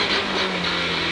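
A BMW M3 rally car engine on a rallycross circuit gives a short, steady, loud mid-pitched drone with a dense hum, up close and with no voices.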